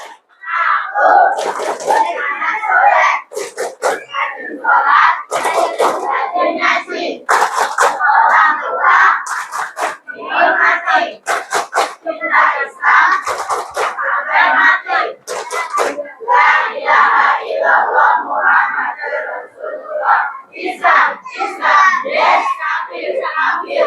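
A group of parents and children at a mosque Quran-school gathering chants 'tepuk anak soleh' together, their voices punctuated by bursts of sharp, rhythmic hand claps repeating steadily throughout, loud and close.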